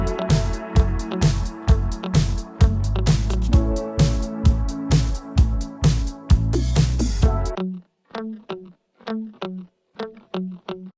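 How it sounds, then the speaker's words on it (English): Dry picked electric guitar parts from a disco pop track with no reverb, rhythmic and choppy, playing over a full band mix before continuing alone with tight, short plucked notes. "And it has these picked guitar parts in it, which sound like this."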